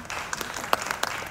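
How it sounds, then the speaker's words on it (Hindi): Audience applause welcoming a young harmonica performer at a live school show, a brief burst of scattered, fairly faint clapping with a few sharper individual claps standing out. "स्वागत करिए तालियों से"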